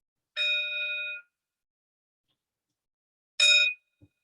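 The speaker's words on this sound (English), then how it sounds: "The fading of the sound of the bell" A meditation bell at a Buddhist service rings clearly and alone, its bright tone holding briefly and fading out, then a second strike rings shorter before silence and a faint soft knock.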